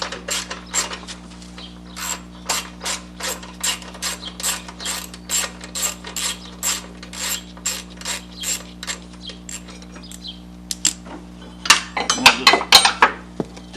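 Ratchet wrench backing out an 8mm bolt from a lawn mower belt guard, a long steady run of rapid, even clicks close up, ending in a denser clinking flurry as the bolt comes loose.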